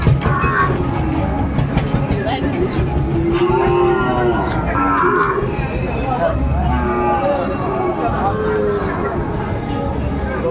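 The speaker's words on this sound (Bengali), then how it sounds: "শাহিওয়ালার ষাঁড় বাচ্চা আমরা দেখছি" A young Sahiwal bull moos repeatedly at a busy cattle market, long drawn-out calls rising over a constant babble of crowd chatter and nearby voices.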